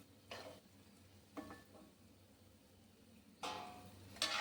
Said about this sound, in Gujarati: એકદમ ધીમા તાપે એને તળવાના છે